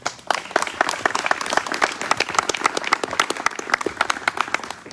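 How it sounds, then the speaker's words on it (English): Audience applause at a Boys to Men conference, dense steady clapping from a crowd filling the whole stretch, moderately loud and close, with no talk over it. "Let's give him another round of applause once again."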